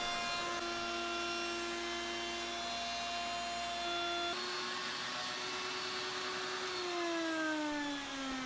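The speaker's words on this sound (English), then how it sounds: "Using a 3/8 inch radius roundover bit on the upper and lower half of this." A handheld router with a 3/8 inch radius roundover bit runs along cherry wood, giving a loud, sustained high whine that shifts pitch partway through and sags slightly near the end.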